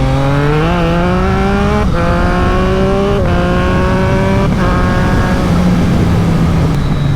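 A Triumph Street Triple 765 RS motorcycle with a SPARK exhaust accelerates hard, its engine note rising loud and raspy through several gears with brief dips at each shift, close and continuous, without talk.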